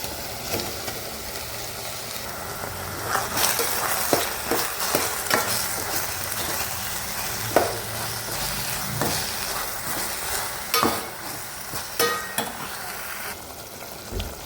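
Mushrooms are stirred into sizzling masala in a pan, with a continuous frying hiss broken by repeated scraping knocks of the spatula over about fourteen seconds.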